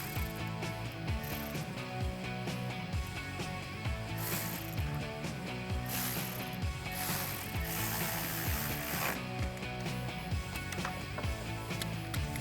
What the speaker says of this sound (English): take my 10mm socket and snug that down